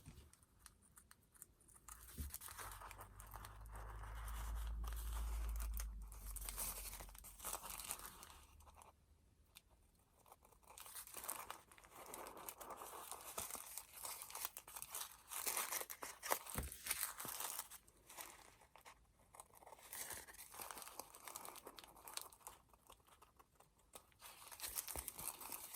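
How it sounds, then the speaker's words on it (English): Scissors snip and trim the edges of a deli paper envelope, making quiet, irregular crinkling and cutting sounds with short pauses between bursts. "I'm just going to take some scissors and clean up these little grooves."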